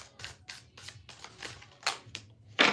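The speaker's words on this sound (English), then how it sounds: "I'm just going to do one more shuffle" A deck of tarot cards is shuffled by hand in close, quick papery bursts, about eight or nine riffles in a rough rhythm, with the last one the loudest.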